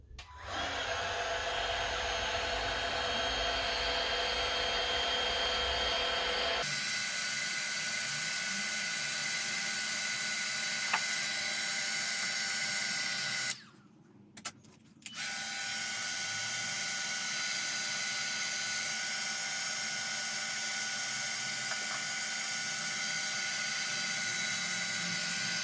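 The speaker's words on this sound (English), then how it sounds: "using my Ryobi heat gun" A Ryobi heat gun blows steadily, close and continuous, heating the rear gel badge on a Ford Mondeo mk3 ST220; its broad airy roar drops out for a second partway through, then resumes.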